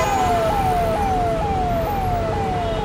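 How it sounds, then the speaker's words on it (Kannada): An ambulance siren wails close and loud at a traffic signal, repeating a falling tone in regular cycles about every half second over steady traffic rumble. "ಸಿಗ್ನಲ್ನಲ್ಲಿ ಇದ್ದಕ್ಕಿದ್ದಂಗೆ ಆಂಬ್ಯುಲೆನ್ಸ್ ಸೌಂಡ್ ಆರನ್ ಜಾಸ್ತಿ ಆಯಿತು"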